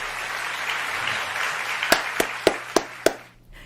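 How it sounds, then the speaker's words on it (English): An audience gives a standing ovation after a virtuosic viola concerto at a Carnegie Hall gala audition. Dense, steady applause fills the room, then thins to a handful of loud, separate claps before falling silent. "Adding my applause to the standing ovation there."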